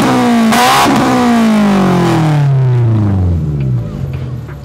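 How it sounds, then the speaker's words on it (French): A Integra car with hood and trunk closed at a fast-drive car meet on Réunion island revs hard nearby, the loud engine note sweeping up and then winding down in a long falling drone. "nous mettre deux petits coups d'accélérateur s'il te plaît."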